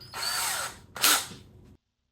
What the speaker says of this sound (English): So now I put the drill bit in the drill.